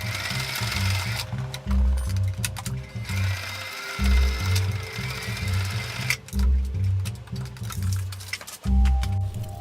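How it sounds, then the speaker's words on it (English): A standard domestic sewing machine stitches Velcro onto a fixed-gear bicycle strap, running in loud, rapid mechanical bursts with brief pauses between runs, close by and with no voices. "This is just your standard sewing machine."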